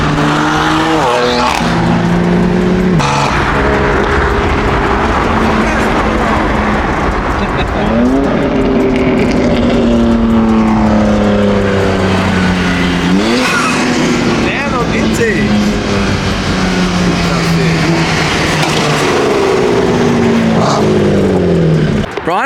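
BMW M3 CS with carbon fiber body kit revving loudly nearby, its engine note rising and falling in repeated sweeping pulls over about twenty seconds, with people talking over it.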